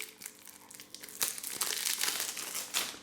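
Plastic wrapping on a trading card pack crinkles and tears as it is pulled open, a dense close-up rustle with sharper crackling bursts in the middle and near the end.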